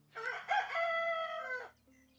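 A single rooster crow from the farmyard in the medieval survival game Medieval Dynasty, a drawn-out cock-a-doodle-doo heard alone against a quiet background with no talking.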